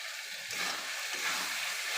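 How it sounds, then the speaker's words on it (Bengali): Goat fat sizzles and spits in a hot pan, a dense steady frying hiss that swells slightly as the pieces settle, close and continuous with no talking. "এবার আমি খাসির চর্বিগুলো দিয়ে দেবো।"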